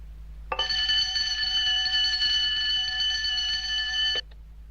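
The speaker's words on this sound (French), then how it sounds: "Bon, l'alarme est en état de marche." A bank vault alarm system rings steadily for about four seconds, a loud, even electronic bell tone that starts abruptly and cuts off just as sharply, with no talk over it.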